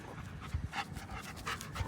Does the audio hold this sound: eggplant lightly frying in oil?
no